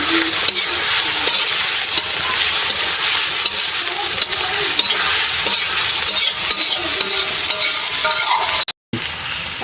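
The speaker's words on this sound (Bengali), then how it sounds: "আমি যে আলু ভাজা রাখা ছিল যে ওইটা আমি দিয়ে দিলাম।" Loud, continuous sizzling as fried potatoes are stirred into frying chicken curry masala in a pan, with frequent scraping and stirring clatter and a brief dropout near the end.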